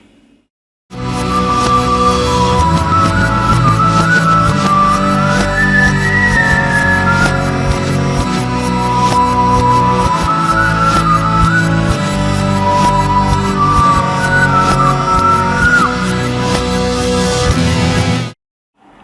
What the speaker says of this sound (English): this song has a whistling solo that sounds like it might be backwards